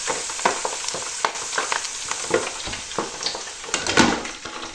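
Food sizzles and crackles steadily in a deep fryer's hot oil, a dense hiss with scattered sharper pops throughout, close and continuous, with no voices.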